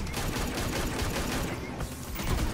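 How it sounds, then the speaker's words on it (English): Gunfire in a video game firefight in ranked play, a dense, continuous clatter of overlapping shots and bursts, loud and sustained throughout with no talk. "this is a firefight right now. I'm not sure if anybody's punched or kicked anyone yet, but there's been a lot of gunshots."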